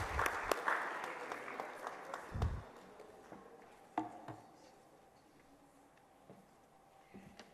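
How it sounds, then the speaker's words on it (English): A crowd applauds for a speaker invited to give closing remarks at an inter-generational dialogue event in Accra, with dense clapping that is loud at first and then fades, broken by a few sharp knocks and thuds. "Let's welcome her with a round of applause."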